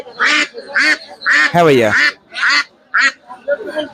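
Chinese ducks at a duck and goose market give a run of short, loud nasal quacks close by, with a man's brief spoken reply in the middle.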